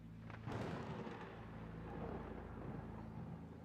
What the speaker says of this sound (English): you hear a crack of thunder